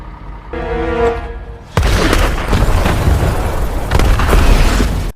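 A film explosion of rigged glass bottles: a sudden loud blast breaks in after a short musical tone, followed by sustained crashing and debris noise with a second burst near the end.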